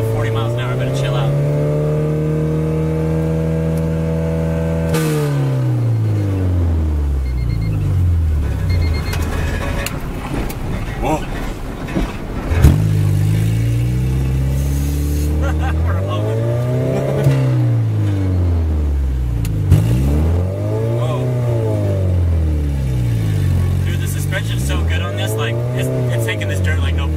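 A long-term project car driving along a freshly worked, dusty dirt road at about 40 mph, its engine droning loudly with repeated rising and falling revs through gear changes, plus a few bumps and clunks along the way.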